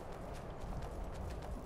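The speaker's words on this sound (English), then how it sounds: "here's a hunter on a horse" Horse hooves clip-clop in the Skyrim video game as a hunter rides by, a quiet, steady run of hoof beats set against a low ambient backdrop.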